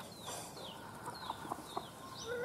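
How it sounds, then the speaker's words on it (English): Hens with chicks clucking outdoors, soft scattered clucks and faint peeps heard at a distance over quiet ambient background, with a few short bird chirps. "Here comes some hens with chicks"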